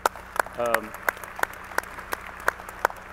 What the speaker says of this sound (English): I think they should get a hand of applause for that, because that was unbelievable.